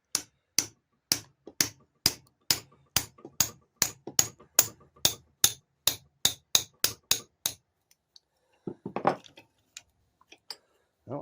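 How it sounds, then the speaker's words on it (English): A tiny hammer taps a small socket during a 150cc GY6 scooter top-end rebuild, about seventeen sharp, evenly spaced metallic knocks, close and crisp, then a short pause and a few softer clatters. "I can grab like a tiny socket. That's a nice guess, huh? And a tiny hammer."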